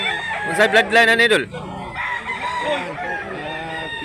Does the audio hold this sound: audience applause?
no